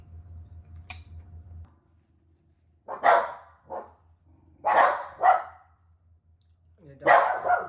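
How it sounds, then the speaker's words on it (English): A dog barks at something outside in several loud, separated bursts of one or two barks each, with faint clinking of dishes and low background hum in between. "The dog, they hear something outside."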